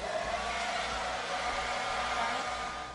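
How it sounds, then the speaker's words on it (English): A blow dryer runs continuously with a loud, steady whooshing hiss while it is passed through styled hair to dry it fully, with no talking. "I'm going to take my blow dryer and I'm just going to go through the hair to make sure she's completely dry all the way"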